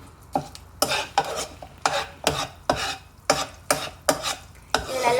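A spoon stirring paneer butter masala ingredients through melted butter in a pan, a regular rhythm of about ten scraping strokes, each a close, rasping swish over a faint sizzle.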